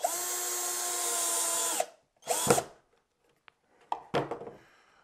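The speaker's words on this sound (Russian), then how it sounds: "Берем второй саморез, натягиваем, чтобы она в натяжку была, и вкручиваем второй саморез." A power drill drives a self-tapping screw into a wooden board, a sustained whirring run that stops, then two shorter bursts of the motor with a small click between them, close and alone.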